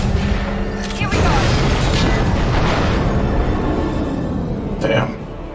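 Missiles exploding in the game Mass Effect: a loud, sustained rumbling roar of blasts with a sharp crack near the start and another burst near the end, dense and close throughout.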